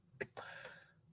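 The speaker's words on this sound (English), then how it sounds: "I'm getting a little coughs today." A single short cough or throat-clearing burst from someone commentating live on an Oakland Athletics vs. Boston Red Sox baseball game, close to the microphone, followed by a brief breathy trailing sound.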